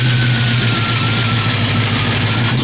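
A 1974 Dodge Challenger resto-mod idles steadily up close, a low, even engine rumble that holds constant with no talking.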